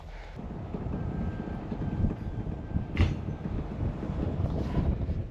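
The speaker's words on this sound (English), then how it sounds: "So the train is finally moving." An iron ore train in Mauritania rumbles along steadily with low rolling clatter and wind noise, a brief sharp hiss midway, heard close and continuous.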